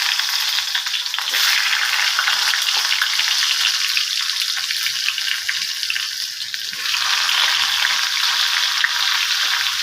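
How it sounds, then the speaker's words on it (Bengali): Eggplant slices fry in hot oil in a wok with a steady, close sizzle, crackling and spattering without a break for the whole stretch, a few louder pops standing out near the start and middle. "বেগুনগুলো ভেজে নিচ্ছি।"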